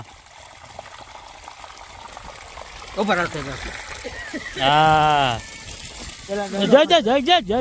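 Water gushes and trickles from a farm well's motor pump, splashing steadily beneath close-up conversation, with a voice prominent over the flow.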